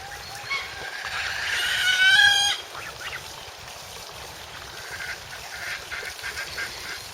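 A barnacle goose honks in a short burst of calls over steady outdoor background noise at a farm pond, then the calling stops and only ambient sound remains.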